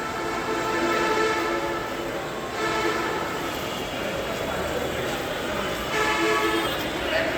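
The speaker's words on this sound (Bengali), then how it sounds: "সুন্দর রেল স্টেশনের মধ্যে রাজশাহী রেল স্টেশন একটি অন্যতম" Rajshahi railway station at night: a train rumbles steadily while a long, sustained horn-like tone rings out, with murmuring voices in the background.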